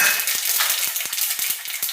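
Cumin seeds sizzle in hot oil for a sabudana khichdi tempering, a bright, continuous frying hiss punctuated by repeated small pops and crackles, close and alone.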